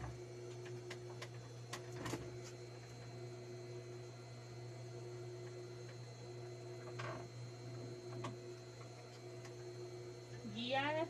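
A sewing machine stitches fabric at low level, a steady mechanical whir with faint ticking over a constant hum.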